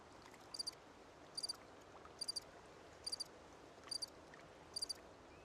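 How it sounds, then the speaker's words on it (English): Recorded cricket chirps play back faintly over a soft steady hiss, in six evenly spaced bursts of three to four quick high chirps each. "Sorry, I had to play the cricket sounds."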